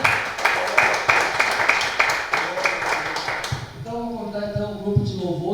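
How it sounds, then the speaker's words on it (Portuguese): A church congregation claps in a regular rhythm for about three and a half seconds, then the applause gives way to a voice over faint tonal music. "E mais uma salva de palmas para Deus."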